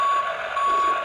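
A toy garbage truck sounds a steady electronic reversing beep, loud and close, alone for about a second.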